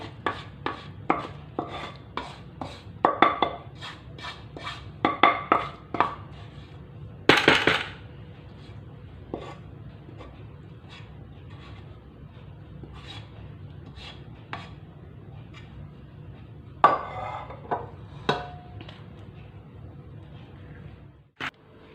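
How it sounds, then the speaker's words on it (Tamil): A ghee-greased knife cuts freshly poured Mysore Pak in a tray, giving a series of sharp close taps and scrapes, bunched in clusters at the start and again near the end, with a louder rasping stroke midway. "ட்ரேயில் கொட்டிட்டு கொஞ்சம் ஆறுனதுக்கப்புறம் கத்தியில் நெய் தடவிட்டு துண்டம் போடுங்க"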